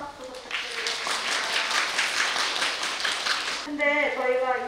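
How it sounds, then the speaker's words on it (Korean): A crowd at Gyeongbokgung Palace claps together in sustained applause lasting several seconds, then a voice begins speaking as the clapping ends. "다시 한번 동시에 큰 박수 부탁드립니다."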